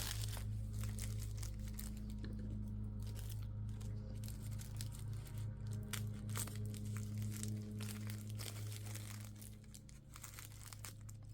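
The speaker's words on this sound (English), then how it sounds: "it's tissue paper that we can use" Tissue paper crinkling steadily as a soft package is unwrapped, a continuous close rustle over a low background hum.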